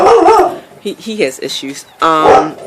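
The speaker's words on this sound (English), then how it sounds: "that's the dog, as you hear." A dog barks and yips nearby in loud bursts, with someone talking over and between the barks.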